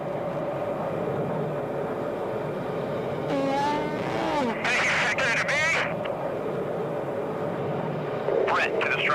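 F/A-18 fighter jets close at high speed, their engine roar swelling in broad bursts with rising and falling tones over a constant drone, heard beneath a narrator's steady voice.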